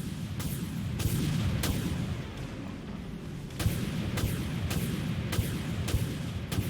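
A warship fires torpedoes in the naval combat game Dreadnought. A series of sharp, evenly spaced launch bursts rises over a steady low engine rumble, loud and close, coming in quicker succession toward the end.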